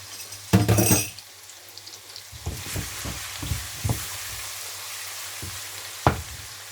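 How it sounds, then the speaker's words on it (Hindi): Chopped garlic frying in a pan as the first step of a Pakistani-style prawn dish, a loud sizzling burst followed by quieter crackling and a few light clinks of a utensil against the pan. "लहसुन को तकरीबन जो है वो 1 मिनट के लिए इसको कर लें, भून लें इसको"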